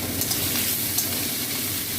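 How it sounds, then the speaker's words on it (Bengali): Chopped onion and green chili sizzle steadily in hot oil, a dense continuous frying crackle with occasional stirring scrapes, close and fairly loud with no voices. "এবার পেঁয়াজটা ভাজা হয়ে গেছে"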